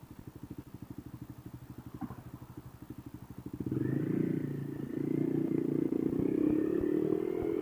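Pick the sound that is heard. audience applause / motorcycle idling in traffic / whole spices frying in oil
motorcycle idling in traffic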